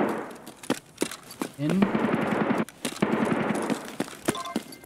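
Gunfire in the video game Escape from Tarkov, a series of sharp shot cracks at irregular intervals, some close and loud, mixed with a player talking and game movement noise.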